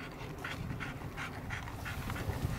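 Dogs pant steadily and close by outdoors during a picnic on a sunny day, a quick rhythmic breathing that carries on alone throughout with no talking.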